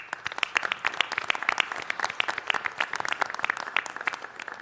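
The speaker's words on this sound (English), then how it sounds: "So let's all once again give a big round of applause before we hear from the man himself" A big round of applause fills a city council meeting chamber, many hands clapping rapidly and steadily for several seconds with a dense, moderately distant crowd texture and little talk.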